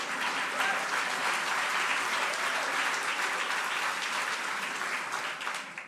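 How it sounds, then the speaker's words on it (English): An audience at a public meeting applauds steadily for several seconds, a dense, even wash of clapping with no speech over it. "Y'all can clap for that"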